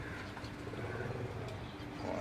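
Gifted pigeons at a pigeon keeper's compound give soft, low cooing that sits under a steady wash of background noise, faint and blended rather than distinct, with no voices present.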